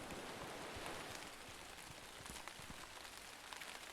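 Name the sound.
rain falling in the video game Railgods of Hysterra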